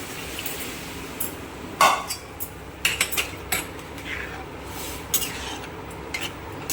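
Boiled ghugni peas tip into cooked masala in a pan, giving scattered clinks and knocks of utensil against metal over a low frying hiss, close by.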